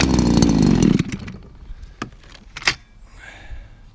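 Hedge trimmer's small petrol engine fires and revs loudly for about a second, then dies away into a few sharp mechanical clicks and clunks up close.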